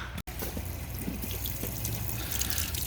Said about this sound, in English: We can see that now it is overflowing